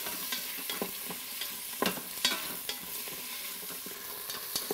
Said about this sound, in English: fry it for a couple minutes until it kind of gets clear